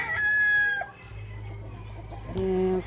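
A rooster crows loudly and close by at a vegetable garden, a long drawn-out call, followed by a quieter stretch and a second shorter crow.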